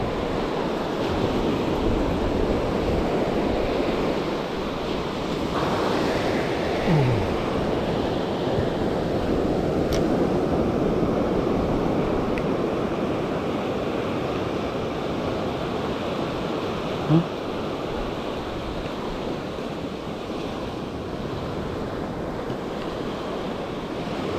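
Gentle sea waves wash in a continuous soft roar, calm and steady, with light wind rumble and no voices.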